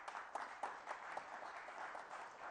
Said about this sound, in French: On applaudit nos amis